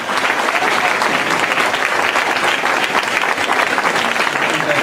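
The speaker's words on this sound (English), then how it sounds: "Let's give him a round of applause." A crowd at a 5K race finish applauds the winner with dense, sustained clapping that stays loud and even throughout.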